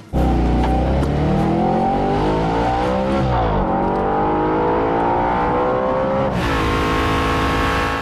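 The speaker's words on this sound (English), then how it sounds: "Just listen to that noise. It's impressive at trackside" An Audi RS5 Cabriolet engine revs hard at trackside, loud and close, climbing through the gears with sweeping pitch rises, a brief drop, then a sharp surge to a high sustained roar.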